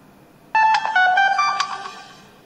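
A phone's text message notification rings out as a loud, clear melodic chime of several bright tones over a quiet background, fading away after about a second and a half.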